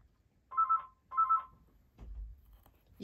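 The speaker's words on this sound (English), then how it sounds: "The phone always rings when I'm on." A telephone rings twice in quick, evenly spaced bursts, clear and close, in a quiet room during a card-making session. A soft thump and rustle follow the second ring.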